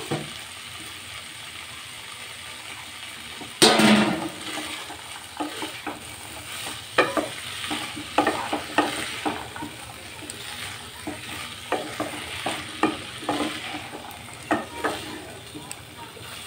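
Fried potatoes and green peas being stirred in a pan of spiced ghugni, with a sharp scrape near the start followed by repeated clinking stirs over a steady sizzle.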